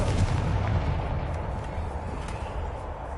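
A deep, rumbling blast from the Confringo fire spell in Hogwarts Legacy, a heavy low-end boom that rolls on and slowly fades over a few seconds, with no voices.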